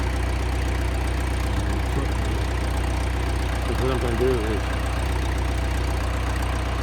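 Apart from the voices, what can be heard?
tractor engine idling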